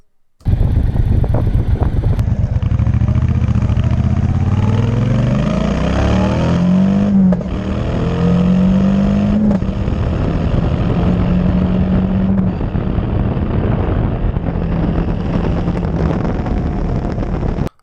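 A Triumph Bonneville Bobber motorcycle accelerating hard along an airfield road, its engine note rising through several gear changes, loud and close with heavy wind noise buffeting the microphone.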